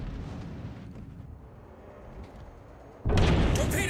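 An enemy destroyer blows up in a naval combat video game: low rumbling battle noise, then a sudden loud, broad blast near the end that stays heavy and booming.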